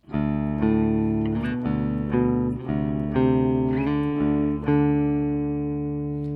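A Fender Squier Classic Vibe Bass VI played through its middle pickup alone, a balanced, ringing riff of repeated struck chords, loud and close.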